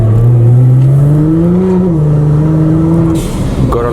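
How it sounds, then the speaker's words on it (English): An Audi R8 V10 engine drones loudly and close, its pitch climbing steadily as it revs, then the tone drops away and a brief hiss like a blow-off valve is heard near the end. "gotta love that accentuated blow-off valve"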